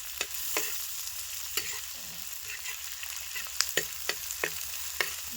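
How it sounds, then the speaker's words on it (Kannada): Onions frying on a tava until golden, a soft steady sizzle broken by sharp scraping clicks of a spatula stirring at irregular intervals, close and fairly quiet. "ಇದು ಉಳ್ಳಾಗಡ್ಡಿ ಚಂದ ಫ್ರೈ ಅಲ್ರಿ, ಗೋಲ್ಡನ್ ಕಲರ್ ಬರೋ ಹಂಗೆ."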